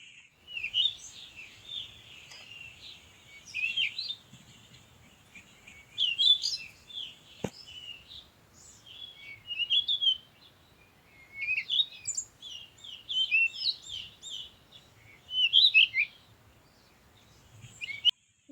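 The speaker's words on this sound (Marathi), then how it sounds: "लय वेगळ्या वेगळ्या प्रकारचे पक्षी आहेत बघा मग त्यावर" Many birds chirp and tweet along the river at Pandharpur in repeated bursts of bright calls, moderately close and fairly loud against a quiet background, with no one talking.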